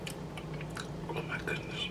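Close, quiet chewing of crispy, spicy Louisiana-style Cajun fried catfish with lemon pepper seasoning, soft crunches and mouth sounds repeating steadily over a low background hum.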